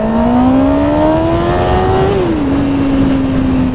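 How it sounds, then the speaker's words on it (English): A Kawasaki ZX-9R motorcycle engine running on expired vegetable oil revs hard, its pitch climbing steadily for about two seconds, then dropping as the throttle eases and settling into a loud, even drone. "Wow, that was revved out all the way."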